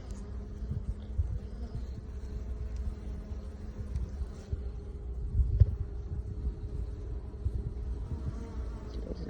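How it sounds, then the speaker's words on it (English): A dense, steady buzzing of a fresh swarm of honey bees clustered in a five-frame box, close by and continuous, with a low droning hum throughout. "Pretty good cluster of bees there."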